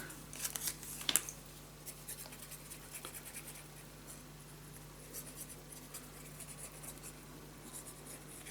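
Scissors make faint snips and scratchy rubbing on paper being cut for a handmade scrapbook mini album, quiet and close, with a low steady hum beneath.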